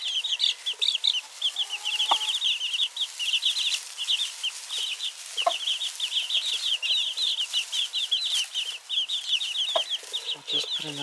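A hen clucks rapidly and continuously while being fed by hand, giving close, busy chattering calls with a few louder squawks and some faint background noise.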